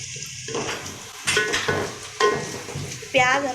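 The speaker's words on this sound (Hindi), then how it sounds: "सब चीज़ों को फ्राई कर लेंगे," Onions and bay leaf fry in a pan with a steady sizzle, broken by several louder scraping stirs of a utensil against the pan at irregular intervals, close and moderately loud.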